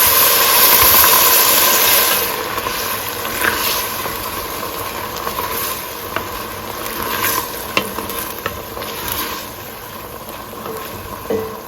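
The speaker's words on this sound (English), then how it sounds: "Now I'm gonna add some red wine to deglaze this, about a 1/4 cup." Red wine splashed into a hot pot of seared beef and crushed garlic for a pot roast, giving a loud initial sizzle that settles into a steady steaming hiss with occasional stirring scrapes, no talking.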